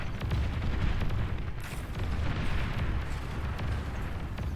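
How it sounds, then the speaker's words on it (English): A wave of bombing runs in the strategy game Beyond All Reason sets off a dense stretch of rumbling, overlapping explosions. The booms roll on loudly without a break for several seconds, with no talk. "we'll see what happens as the bombing wave makes its way in"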